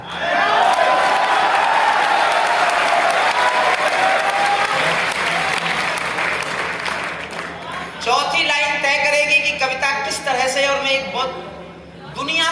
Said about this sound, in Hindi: मेरी बात अच्छी लगे तो तालियां सुनना चाहता हूं